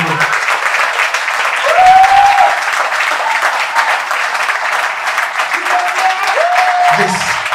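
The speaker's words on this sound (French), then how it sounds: "j'aimerais qu'on puisse applaudir, question de mettre un peu d'ambiance dans la salle" Festival audience in a hall at the Pointe-Noire international short film festival applauding steadily and loudly, a dense continuous wash of clapping with a few brief voices and whistles rising above it.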